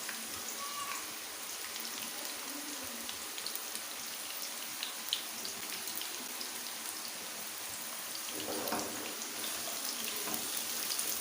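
Onions frying in hot oil in a kadai, a steady fine crackle and sizzle at moderate level that swells slightly near the end, with no voices.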